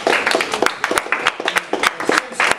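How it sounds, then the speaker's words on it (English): An audience claps in brief, uneven bursts of scattered hand claps, fairly close and lively, as if a small crowd is applauding news at a talk. "You're supposed to clap when you hear news like that."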